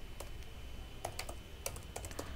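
Code being typed on a computer keyboard: light, irregular key clicks in short bursts over a quiet room background, close by, with no speech.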